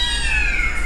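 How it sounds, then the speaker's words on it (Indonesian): Many cats meow at a riverside spot, their high drawn-out cries overlapping into a loud, steady chorus with no speech. "Ini ada kucing banyak sekali"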